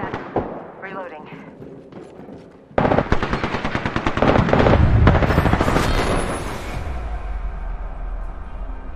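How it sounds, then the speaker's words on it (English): Rapid automatic gunfire in a Chinese MMO shooter, dense bursts of shots growing louder and continuous after a quieter start, with game effects and faint voice underneath. "Firing. Getting shot at."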